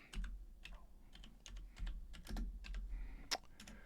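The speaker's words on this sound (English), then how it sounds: "Again, you're just typing in here" Irregular clicking keystrokes on a computer keyboard, close and fairly quiet, coming in quick bursts with short pauses and no voices.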